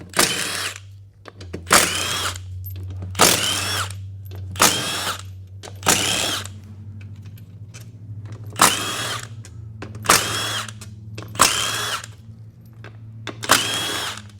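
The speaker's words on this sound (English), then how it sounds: "Now we got like 400 bolts around this transfer case half, so we'll get all these out real quick." A power tool removes bolts from a transfer case half in repeated short whirring bursts of about a second each, roughly ten of them, separated by brief pauses over a low steady hum.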